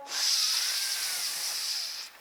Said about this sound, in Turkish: Burnundan derin bir nefes al.